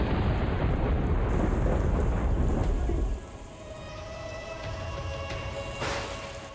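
A heavy monsoon downpour in Vasavad, Gujarat, comes with deep rolling thunder that dominates the first half, then settles into a steady, dense hiss of rain.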